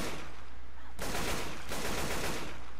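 Gunfire at a zombie in the video game Left 4 Dead 2: a loud, sustained burst of shots over constant broadband game noise, with a sharper onset about a third of the way through.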